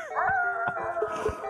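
A video-game dog lets out a wavering, drawn-out howl with whimpering inflections, close and prominent with no talking over it.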